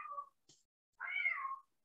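A domestic cat meows close by: one short meow, a brief pause, then a longer, drawn-out meow that rises and falls. No voices are heard.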